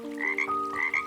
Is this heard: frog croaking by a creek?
yes